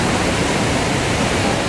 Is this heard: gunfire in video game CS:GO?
no